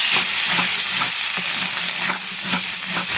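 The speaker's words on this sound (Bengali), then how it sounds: "এবার ভালো করে এটাকে আগে কষিয়ে নেব" Masala of coconut, cashew, ginger and sour yogurt is stirred and fried in a pan, with a loud sizzle broken by repeated scraping strokes of a spoon at a roughly regular pace, and no talking.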